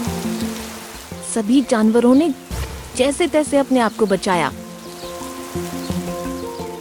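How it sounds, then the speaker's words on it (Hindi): Rain falls steadily in an animated Hindi children's story, a soft, constant hiss running beneath a narrator's voice throughout. "एक दिन मौसम बिगड़ गया और बारिश आ गई।"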